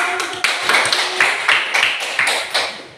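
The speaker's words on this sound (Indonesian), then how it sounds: "Kasih aplaus dulu." Classroom students clapping in applause, a short burst of several rhythmic rounds of handclaps, close and fairly loud.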